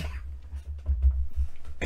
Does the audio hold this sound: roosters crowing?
no